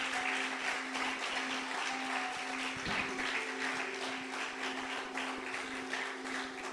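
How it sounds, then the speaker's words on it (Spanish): A church congregation applauds the men present in a steady, fairly faint patter of clapping, with a low continuous hum beneath it and no talking. "Dale un fuerte aplauso a estos varones que están acá."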